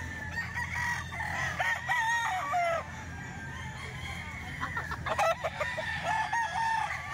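Farm chickens for sale at a Grotto flea market, several roosters crowing in overlapping calls with hens clucking nearby, close and loud over a steady market background.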